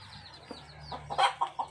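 Black chickens in a simple coop walled with green shade netting give a few short clucks and soft calls, with the loudest bursts near the end, over a low steady hum.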